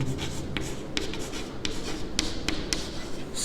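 A pen writes on a board in short scratchy strokes with regular taps as letters form, close and clear over a low steady background hum, no talking.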